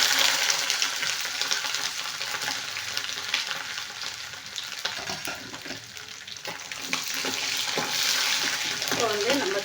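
Garlic and dried red chillies sizzle steadily in hot coconut oil in a pan, a continuous bright crackling fry with occasional stirring scrapes throughout.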